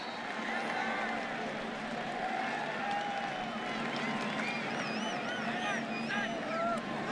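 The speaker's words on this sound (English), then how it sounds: "Listen to the crowd." A stadium crowd at a USC college football game cheers in a broad, steady roar with whistles and shouts rising through it, while a commentator talks over the noise.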